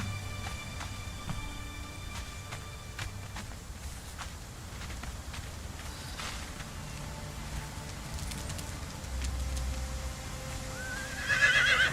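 Hooves clop and footsteps shuffle over quiet background music in the video game Conan Exiles, then near the end a horse whinnies loudly in a rising, shaky call.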